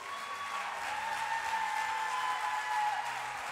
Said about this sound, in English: give God a hand clap of praise tonight